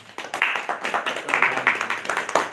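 An audience claps in welcome of a guest at a live singing program, a dense burst of close, brisk handclaps running steadily throughout.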